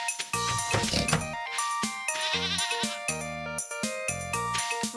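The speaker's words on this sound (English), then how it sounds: "Goat." A goat bleats in the farming video game Stardew Valley, several nasal cries in quick succession over bright chiming game music.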